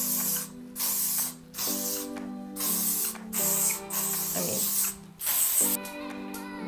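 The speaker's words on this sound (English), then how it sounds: "And I'm just gonna spray it a little bit." Taft hairspray sprayed onto short hair in a styling session: repeated short hissing bursts, about seven in a row with brief gaps, close and fairly loud over a steady hum.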